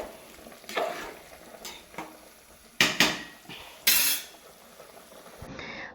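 Ground spice paste tossed into hot tempering oil in a home kitchen, frying with a soft sizzle while a utensil stirs and scrapes in several loud bursts; nobody speaks.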